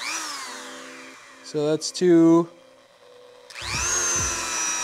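A Dremel rotary tool fitted with a polishing wheel winds up to full speed, giving a high, rising whine that runs up close. It pauses while someone speaks, then spins up again.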